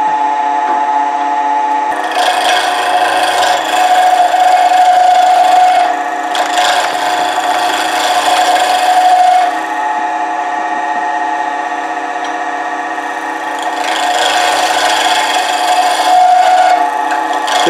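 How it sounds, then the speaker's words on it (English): A wood lathe spins a pen blank while a chisel cuts it, a loud continuous whirring hum with bursts of rougher scraping as the tool bites in and eases off. "first time putting a chisel on the lathe"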